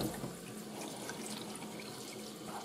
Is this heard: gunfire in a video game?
no